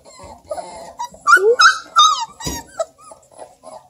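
Three-week-old Redbone Coonhound puppies fussing nearby, a string of high whimpers, yips and squeaky whines rising and falling in short bursts, with soft shuffling between cries.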